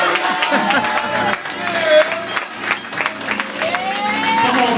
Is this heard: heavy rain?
no